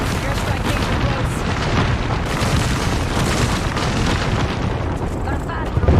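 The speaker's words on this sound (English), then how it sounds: "airstrike danger close" Heavy, rumbling airstrike explosions in Call of Duty: Modern Warfare II fill the scene with continuous loud booms and debris, and voices can be heard under the blasts.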